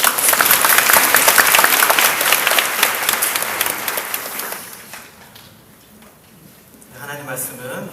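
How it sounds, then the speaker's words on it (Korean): A Korean church congregation at an overnight prayer service breaks into loud, dense applause that gradually fades out, leaving a quieter room where a voice starts speaking near the end. "하나님께 영광의 박수로"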